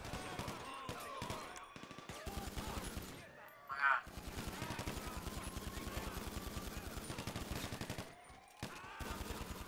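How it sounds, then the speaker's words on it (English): Rapid bursts of gunfire in a GTA V prison-break heist, sustained for most of the stretch with brief pauses, loud and close, while people shout over the shooting. "I want you to start shooting them"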